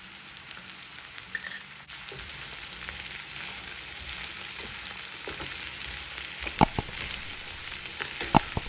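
Cauliflower fries with salt and turmeric in a pan, a steady, moderately quiet sizzle with a few knocks and scrapes of stirring, growing busier toward the end, and no one speaking.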